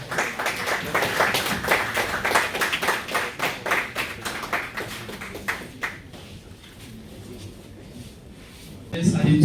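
An audience at a student engineering showcase claps in a loose rhythmic pattern of distinct hand claps that thins out and fades after about six seconds, leaving a quieter room.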